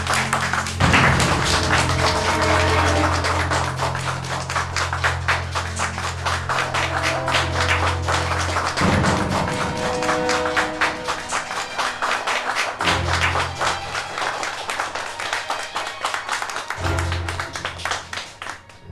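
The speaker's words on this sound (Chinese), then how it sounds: "请诸位用掌声欢迎新会长" A gathered audience claps at length to welcome a new chairman at a formal meeting in Nanyang, a dense, loud, steady patter of hands over a low sustained musical tone.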